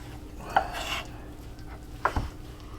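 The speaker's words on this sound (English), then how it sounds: "Just gonna cut this in little bitty cubes." Knife chopping stew meat into small cubes on a cutting board, two brief near knocks about a second and a half apart with low kitchen hum behind, no talk.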